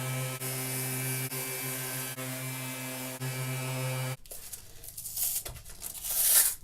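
A 220 grit hook-and-loop sanding disc, Diablo or Tigershark, being applied to a running sander: a steady motor whine with a few soft ticks, then the drone stops and a close rustling, crinkling sound rises, alone with no talk.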